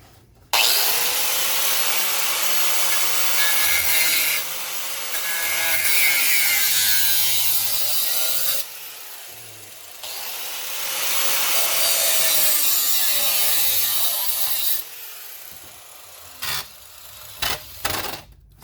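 Metal saw cutting into the muffler of a vintage Jonsereds 751 chainsaw, loud rasping strokes in two long sustained bursts separated by a pause, then a few short scrapes, close up with no talking.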